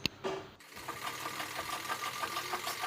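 Sewing machine stitching a pattupavadai, a traditional South Indian girl's skirt, a steady close mechanical run with a quick rhythmic needle pulse after a brief click at the start, heard alone.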